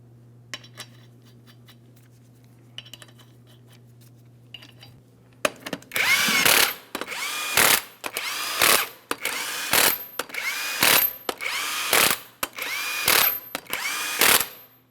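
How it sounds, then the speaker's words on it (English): Power impact tool spinning 22mm wheel lug nuts on a 2007-2014 GMC Sierra 2500 HD, heard as a string of about eight loud, close bursts of whirring and rattling, each separated by short pauses, after a quiet stretch of faint background hum. "start on all 8 of your 22mm lug nuts"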